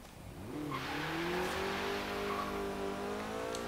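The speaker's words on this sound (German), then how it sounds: "So, aus dem Stand mit Vollgas." A Porsche launching from a standstill at full throttle in the racing game Forza Horizon 3: the engine note climbs steeply in pitch and loudness, then holds a strained high rev, close and alone.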